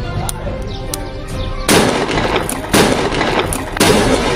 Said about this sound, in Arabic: هنعمل مدفع بطريقة غريبة محدش عملها اصلا